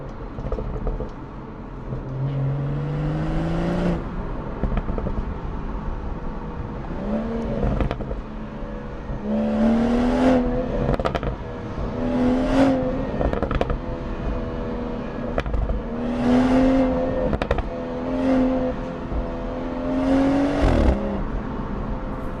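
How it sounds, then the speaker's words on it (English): BMW 440i with its resonator deleted, warmed up and in sport mode, revs repeatedly in a series of sharp rising bursts with crackling pops between them, loud and close. "But we're gonna let the car warm up and we're finna get some revs in."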